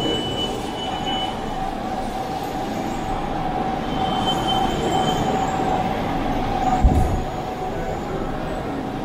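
A Vancouver SkyTrain Expo Line train passes at a transit station, giving a steady loud rumble with wheel squeal and a tonal whine, rising slightly and then steady across the stretch, with no talking.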